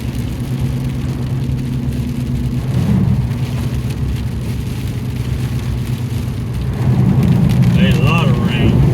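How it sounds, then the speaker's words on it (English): Heavy rain drums on a car while it drives during a storm in Southeast Alabama, a dense steady hiss over a low engine and road hum that swells louder near the end. "A lot of rain."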